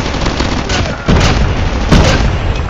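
Gunfire from a sniper rifle in Call of Duty: two loud, sharp booming shots about a second apart, each with a heavy low-end thump over constant battle noise.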